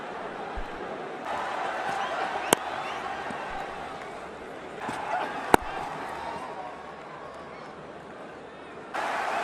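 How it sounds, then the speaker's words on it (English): Stadium crowd noise swells at a cricket ODI in Guwahati as spectators cheer on a batsman nearing a century, a broad roar rising and falling over several seconds under a commentator's voice, with a couple of sharp knocks. "The crowd egging him on"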